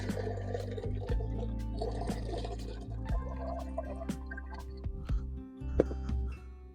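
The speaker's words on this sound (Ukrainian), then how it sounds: "зливаємо цю воду обратно." Water pours and drips steadily from hot canning jars of cucumbers and tomatoes, with small splashes and trickles close by.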